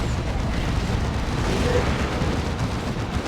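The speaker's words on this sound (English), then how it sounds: "Here comes the barrage off those guys. And it's a very good hit." Artillery barrage explosions in the Warhammer 40,000 strategy game Dawn of War 2 form a dense, continuous rumble of booms, loud and sustained throughout with no distinct gaps.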